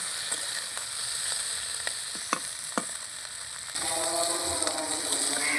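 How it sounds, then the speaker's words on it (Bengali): Spiny gourd pieces fry in hot oil in a covered pan, a steady crackling sizzle with scattered sharp pops and spatters, growing denser and louder partway through when the lid comes off. "কাঁকরোলগুলো একেবারে ভাজা হয়ে গিয়েছে"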